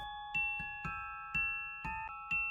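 A doorbell rings again and again in clear ding-dong chimes, about six strikes each fading away before the next one, quiet and clean with no voices.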